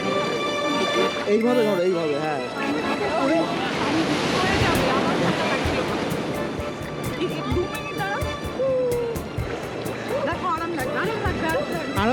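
Ocean surf washes steadily at Virginia Beach, with wind buffeting the microphone and people talking loudly over the continuous wash of the waves.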